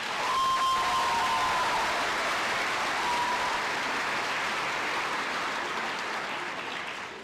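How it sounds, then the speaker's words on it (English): Sustained applause from a crowd at a Grade 12 graduation ceremony, steady and full for several seconds before tapering slightly at the end. "Please give them a round of applause."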